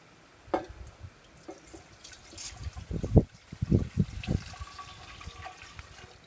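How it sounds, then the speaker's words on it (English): Liquid sloshes and splashes in uneven bursts into a container being filled to 4 liters, with a few drips and a gurgling pour building in the middle before tapering off. "So I'm going to pour it till it's 4 liters in there"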